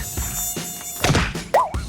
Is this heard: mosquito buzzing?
yes